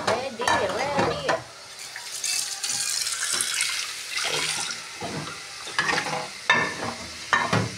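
Onion and garlic sauté in a home kitchen pan with a soft, steady sizzle. Stirring scrapes and clatters come through in irregular bursts over about eight seconds.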